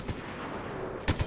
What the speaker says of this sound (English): Oh, I hear gunfire